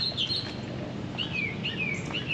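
Outdoor birds chirp in short bright bursts from a moderate distance, repeated tweets over a steady background hum of morning ambience near an apartment complex, with no talking.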